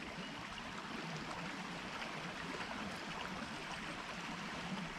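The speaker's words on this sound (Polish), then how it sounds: "To jest potok sulistrowicki." Potok Sulistrowicki, a forest stream in the Góra Radunia reserve, flows with a steady, soft broadband rush and gentle babble, fairly faint and continuous with no voices.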